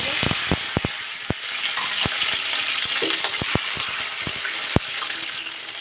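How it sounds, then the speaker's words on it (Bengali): Onion paste frying in a pan for a fish and taro curry, a steady bright sizzle broken by sharp scraping and stirring clicks, close and loud with no talk. "তো পেঁয়াজটা আমি এভাবে ভাজি করে নিলাম আর এখন এখানে একটু পানি অ্যাড করে দেব"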